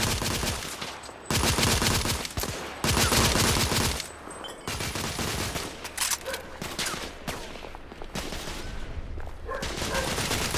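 Heavy gunfire crackles through a firefight in The Order: 1886, with loud sustained volleys from several weapons, brief lulls and scattered sharp shots throughout.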